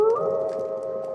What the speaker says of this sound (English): Oh no, I can hear a wolf howling.